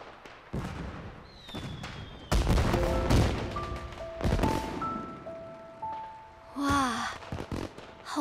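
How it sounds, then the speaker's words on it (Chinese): Fireworks exploding in the distance, with whistling rises and scattered bangs and crackles across the sky, moderately loud, with brief vocal sounds in between. "烟花"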